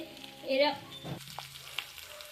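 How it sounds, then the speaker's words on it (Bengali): Already-fried fish goes into a pan of potato and spring onion, giving a soft, low sizzle nearby with a brief tonal sound early on and light clinks after. "এর ভিতরে আমি এই মাছ ভাজাটা দিয়ে দিচ্ছি।"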